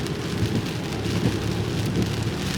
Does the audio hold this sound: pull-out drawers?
no